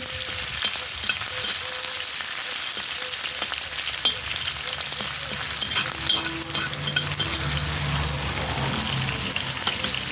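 Bacon frying in a pan with a couple of spoons of oil, a loud, dense sizzle and crackle throughout with stirring scrapes, close and continuous, no talk.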